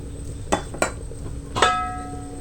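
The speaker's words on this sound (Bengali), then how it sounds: "ঢাকা দিয়ে সেদ্ধ হতে বসিয়ে দিলাম।" Metal lid set on a kadai of boiling chana dal with turmeric, green chillies and salt: a few sharp clinks of metal on metal, the last ringing briefly before fading.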